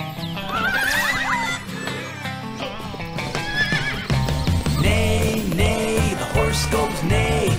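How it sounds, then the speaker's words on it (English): Repeated horse whinnies over a busy musical backing, with rhythmic clip-clop hoof sounds; the neighs rise and fall several times. "the horse goes neigh, neigh, neigh, all horses neigh"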